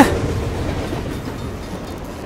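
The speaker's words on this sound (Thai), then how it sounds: "มันรถไฟนี่นะ" A train passes in The Amazing Spider-Man 2 video game, a steady low rumble of rolling rail noise, fairly loud and continuous and fading slightly toward the end, with no talk over it.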